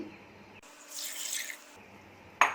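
Three cups of water are poured into a cooking pot holding spices for a black-eyed bean curry, a brief close splashing pour lasting about a second, followed by a short clatter.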